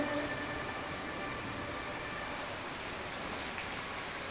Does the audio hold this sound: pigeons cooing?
no